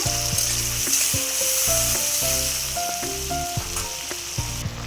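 Teasel gourd sizzles steadily in a pan as a mustard and poppy seed paste is cooked into it for a vegetarian kakrol dish, with a continuous hiss under steady background music.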